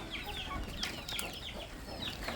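Chickens on a village farm cluck repeatedly in short, overlapping calls at close to middle distance. The sound is faint and steady, with no talk.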